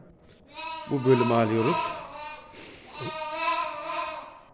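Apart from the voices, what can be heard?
sheep and lambs bleating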